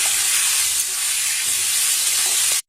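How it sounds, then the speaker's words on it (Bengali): Potatoes with salt and turmeric fry in a pan over a low flame, giving a steady, close, bright sizzling hiss that continues evenly before cutting off abruptly. "এদিকে এখন আলুটা হালকা করে ভেজে নেবো বেশি ভাজবো না"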